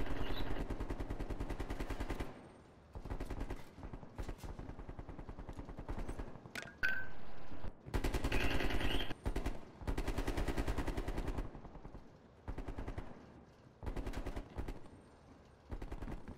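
Video game gunfire in a Call of Duty Black Ops Cold War prop hunt match, rapid bursts of automatic shots and single cracks in uneven clusters with brief pauses, fairly quiet overall.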